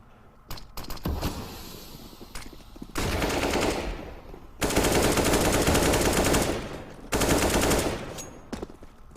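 Rapid automatic gunfire from the video game CS:GO comes in several long, loud bursts separated by short gaps and a few single shots, with no talk over it.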